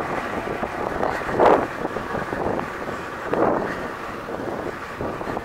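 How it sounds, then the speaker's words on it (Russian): Wind buffets the microphone in a continuous rough rush over a hayfield, swelling into two stronger gusts, with no voices. "Сейчас ветер."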